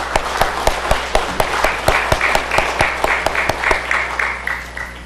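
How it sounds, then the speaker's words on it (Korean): Enthusiastic applause from a large church congregation at a Christmas Day Sunday service, steady clapping filling the multi-level hall with sharp individual claps standing out throughout. "우리 박수로 환영하겠습니다"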